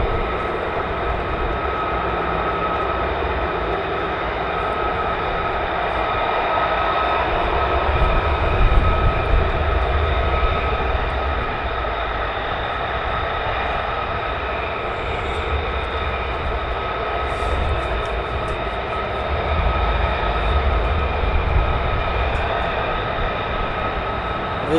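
Military fighter jets taking off at RAF Lakenheath produce a continuous, distant engine roar. It holds steady for about twenty-five seconds, swells slightly at times, and no voices are heard.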